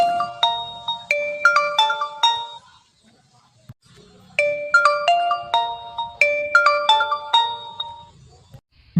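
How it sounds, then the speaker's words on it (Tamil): A phone rings with an incoming call, a loud bright electronic melody played twice with a short pause between, close and clear with no voices. "மறுபடியும் வேற ஒரு நம்பர்ல இருந்து ஃபோன் வருதுடா"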